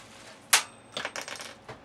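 A loose transportation screw from a newly unboxed SSL DD889B slips out and lands with one sharp, bright metallic clink, followed by a few softer rattling taps and a brief clatter close by.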